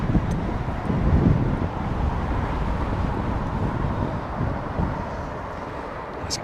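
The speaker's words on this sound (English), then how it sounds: "Bit blustery now." Blustery wind buffeting the microphone at Heathrow Airport, a steady broadband rush that swells briefly early on, with a low background roar and no speech.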